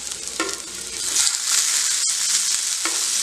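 Tomatoes dropped into onions already frying over a high flame set off a loud, continuous hiss and sizzle, with a few stirring scrapes running through it.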